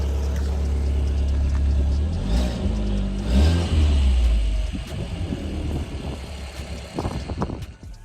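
A cold-started Audi TT fitted with a stainless steel downpipe idles with a deep, loud rumble, then gives a couple of short revs that swell and fall back, alone with no talk.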